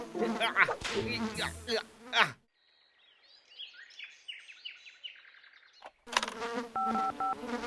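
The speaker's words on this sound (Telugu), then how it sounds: "నా ఇంట్లో ఎన్ని ఈగలా?" Cartoon houseflies buzz around inside a house, a busy, high-pitched whirring with chirpy flutters lasting a few seconds, with speech before and after.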